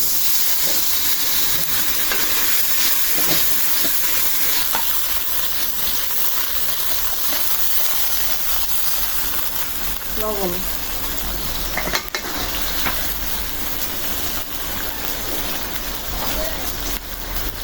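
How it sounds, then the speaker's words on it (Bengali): Masala with onion and green chillies fries in a pan as it is stirred, a steady close sizzle and hiss running throughout with scraping stir sounds and a voice talking over it. "ভাজা হয়ে গেছে মশলা কষানোর জন্য পানি দিয়ে দিবে"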